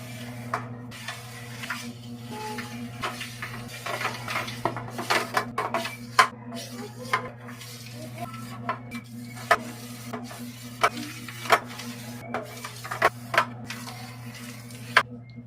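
A knife cuts through set purple gulaman jelly, making scattered light clicks and taps against a dish or board, irregular and close, over a steady low electrical hum.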